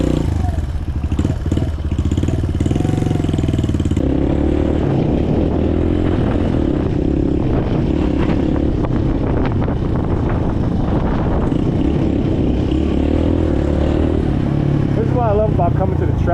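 A Suzuki DR 200 big-bore motorcycle engine runs close to the microphone, rumbling steadily with buffeting wind noise over it, while a voice talks over the engine.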